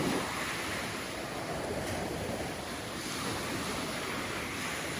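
Rough sea at a Halkidiki beach around sunrise, a continuous roar of surf and breaking waves with wind noise, steady and full with no voices.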